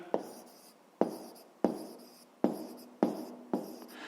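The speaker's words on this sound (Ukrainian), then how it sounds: "Ну що ж, записуємо тоді, скільки розв'язків має задача." Pen or pencil writes down the answer to a fifth-grade math problem in a quiet room, with six sharp, close strokes at roughly even intervals. Each stroke starts with a tap and trails off in a soft scratch.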